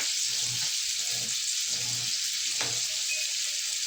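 Salted fish or similar salty food frying in a pan for breakfast, a steady broad hiss of oil sizzling with faint soft pops and light kitchen clatter throughout.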